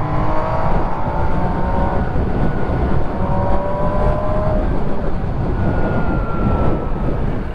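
MV Agusta Dragster RR motorcycle riding on a road, its engine roaring steadily and close with rising and falling pitch as it revs through the gears, loud and continuous with no talk.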